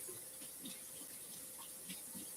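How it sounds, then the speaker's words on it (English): Hands being washed with soap under running cold tap water, a quiet, continuous splashing stream with soft irregular rubbing and slaps, with no voice. "clean up my hands a tiny little bit. Grab a soap."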